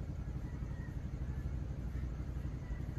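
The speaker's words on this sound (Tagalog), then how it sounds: "Naririnig ko na yung mga motor." Low engine rumble of motorcycles in the distance, a steady muffled drone with no clear pass-by, faint and continuous throughout without speech.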